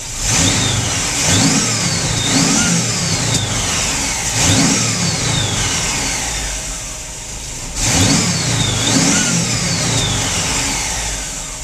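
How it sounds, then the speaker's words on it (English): A Volkswagen T25 van engine revs up in repeated surges and settles back toward idle between them, loud and close with no talking. "even when I rev it up,"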